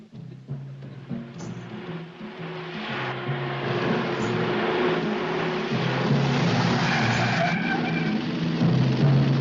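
Car racing fast through booby-trapped city streets in a 1971 film scene, a steady broadband engine and road roar building slightly, with low rumbling tones and a brief high squeal near the end; no talking.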